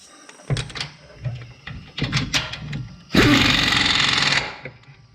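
A power driver zips a screw into a hose bracket during hub and caliper work on a Ram truck, one loud buzzing burst of just over a second following several knocks and clunks.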